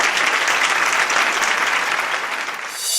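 Loud, dense applause from a live comedy show audience in Warangal, a sustained wash of many hands clapping close by that dips briefly before swelling again.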